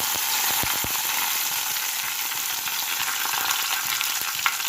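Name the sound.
mustard seeds crackling and frying in pan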